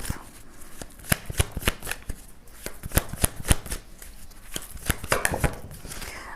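A deck of tarot cards is shuffled by hand, a rapid series of crisp flicking riffles and slaps, close and fairly loud, with short pauses between bursts.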